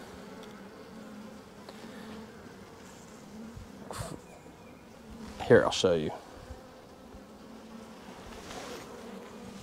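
Honeybees buzz steadily around a brood frame lifted from a hive, a continuous close drone with a few louder bursts as bees fly near; someone speaks briefly over the hum.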